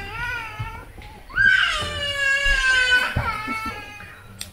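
A child cries in rising, wailing sobs that swell and fade over several seconds, fairly close, with light background noise and brief thumps.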